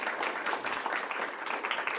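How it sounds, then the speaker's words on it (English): An audience at a school town hall on phones in school applauds the panel of four speakers, a steady wash of dense clapping from a sizable crowd that fills the whole moment without a break. "I want to give a big round of applause to Chris, Jill, Don, and Kim"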